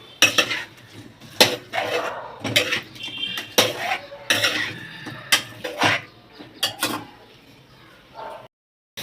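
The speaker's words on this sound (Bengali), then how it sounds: "এবার এটা ভালো করে একটু নেড়ে চেড়ে নিতে।" A spatula scrapes and clinks against a pan while oily Bengali chorchori is stirred, giving close, irregular metallic knocks and scrapes in quick bursts that stop just before the end.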